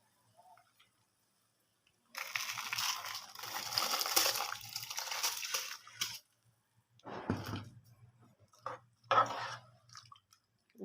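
Rice grains tumble and patter into boiling water in a few bursts, a rustling, crackling pour with pauses between, close by and moderately loud.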